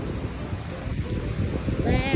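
Strong wind gusts buffet the microphone on a Florida beach boardwalk in Miami during rainy, overcast weather, a loud continuous rumbling roar with a brief faint higher whine near the end.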